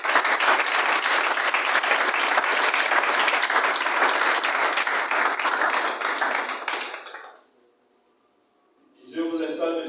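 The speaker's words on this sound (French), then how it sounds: "monsieur Yves Domingo, sur vos acclamations s'il vous plaît" Audience applause fills an official launch ceremony for a Gabonese network of graduates, loud steady clapping for about seven seconds before it stops abruptly into near silence, followed by a brief voice.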